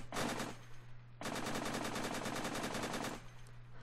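Rapid automatic fire from a helicopter-mounted machine gun in a modded Unturned game: a short dense burst, a brief pause, then a longer continuous volley at a very high fire rate, loud and close over a low engine hum.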